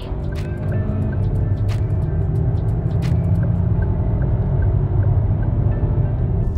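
Steady low engine drone from inside a Geely Tugella under hard acceleration during an acceleration test, with constant road rumble and a few faint clicks over the top.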